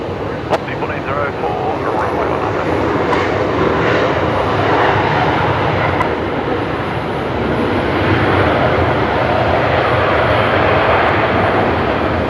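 A Qantas Boeing 737-800 lands at Brisbane Airport, its engines giving a steady, loud roar and rumble that runs without a break, with faint clicks now and then.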